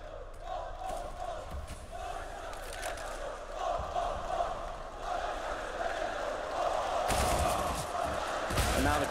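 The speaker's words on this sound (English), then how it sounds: "And now the crowd is here." A large esports arena crowd at a CS:GO major in Kraków roars and cheers, the noise swelling and rising toward the end, under steady shouting and a game caster's voice.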